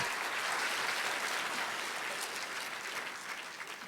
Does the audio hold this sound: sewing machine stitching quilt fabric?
no